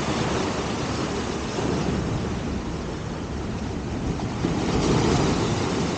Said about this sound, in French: Et à la mer, elle est bien agitée.